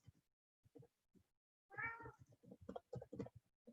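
A house cat meows to be let back indoors, with one long, loud harmonic meow in the middle and shorter, fainter meows before and after it, close to the listener.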